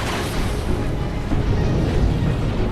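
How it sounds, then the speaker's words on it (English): A massive explosion's deep, rumbling roar that rolls on loudly and continuously, heavy in the low end, with no talking. "The massive explosion successfully caught the fishermen's attention."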